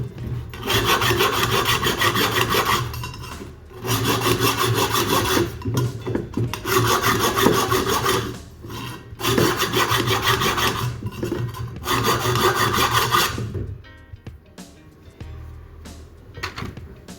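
Hand file rasping at a freshly cut stainless steel line joint on a Toyota Caldina ST215, clearing a burr inside the tube; steady back-and-forth strokes in five long bursts with brief pauses, loud and close.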